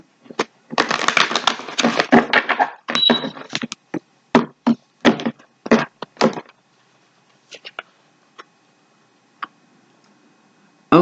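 Oracle cards riffle and shuffle in a dense burst, then a string of separate taps and flicks that thin out into near silence.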